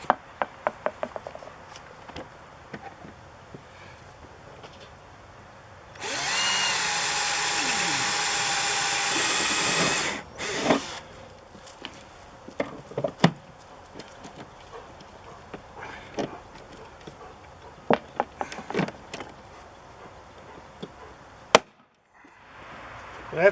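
A power drill bores holes in an Aliner A-frame trailer for mounting gas lift struts, one loud steady burst of about four seconds, followed by scattered clicks and handling knocks.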